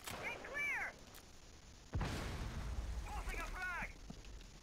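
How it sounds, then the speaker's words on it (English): A frag grenade blast in Rainbow Six Siege, inside a house during a hostage match, hits as one sudden broadband boom with a rumbling tail, bracketed by brief bursts of other game sounds. "Oh god, he threw a frag in there!"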